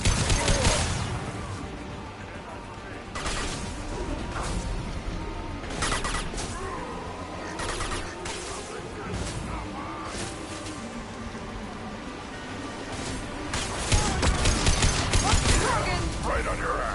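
Gunfire in the video game Mass Effect 2, irregular bursts of shots and impacts scattered through a busy combat mix, with characters talking over the fighting and a louder flurry near the end.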